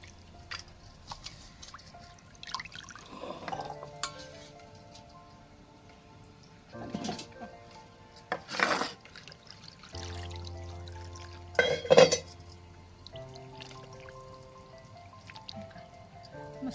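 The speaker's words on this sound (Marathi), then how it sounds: "चिकन चांगलं आपल्याला एक दोन पाण्याने धुवून घ्यायचं" Chicken being washed in water, heard as a few scattered splashes and pours in a bowl, separated by quiet stretches with faint background hum.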